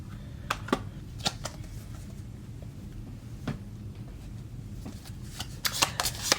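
Archangel Oracle cards are shuffled by hand, giving soft irregular riffling and snapping taps that come close and alone over a low background hum.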